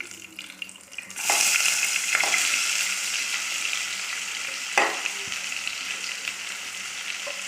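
Sliced onions hit hot oil in a pan with a sudden loud hiss, settling into a steady sizzle broken by a few clanks of stirring, no talk.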